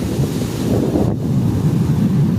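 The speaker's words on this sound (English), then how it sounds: "I'm waiting for the waves to cover it." Ocean waves on the beach at Diani, Kenya, a steady loud surf wash blended with strong wind buffeting the microphone, continuous and close, with no talking.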